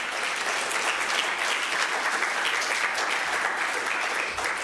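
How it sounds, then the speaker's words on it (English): Audience at a farewell meeting gives a sustained round of applause, a dense, loud, even roar of many hands clapping throughout with no talking. "I want to have a round of applause"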